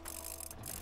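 A wrench repairs a broken machine in the mining game Hydroneer, giving a short run of quick mechanical ratcheting clicks, steady and close, with no talk.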